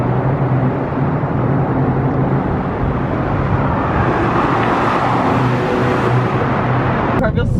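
A Mini Cooper R55 engine with new coil packs and spark plugs hums steadily with constant road noise, loud and close as if from inside the vehicle, with no stutter or change.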